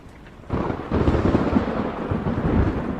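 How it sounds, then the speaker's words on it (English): Thunder and rain in a dark forest horror game, a deep rolling rumble swelling in after a quiet start and sustained over steady rainfall, loud and enveloping. "The thunder is going from left to right."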